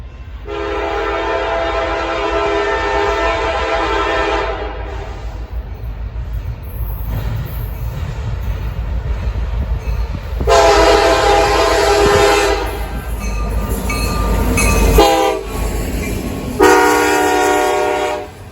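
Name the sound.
freight train passing, railroad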